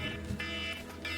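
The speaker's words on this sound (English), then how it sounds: "That's my alarm telling me" A phone alarm sounds outdoors in freezing, windy conditions, in repeated bright electronic bursts, pulsing on and off at a steady rhythm, close and fairly loud.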